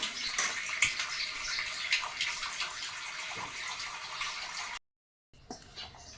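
Tap water runs and splashes as vegetables are rinsed in a home kitchen, a steady close trickle with small knocks, cutting to silence briefly before resuming more quietly.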